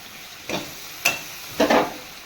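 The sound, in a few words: sautéing potatoes and carrots with spices and yogurt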